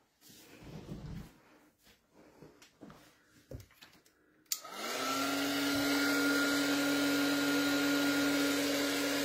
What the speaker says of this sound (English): I'm going to make a noise. I'm going to use my heat tool.